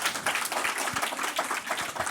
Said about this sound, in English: get our hands together for grade 1 stars with a very loud round of applause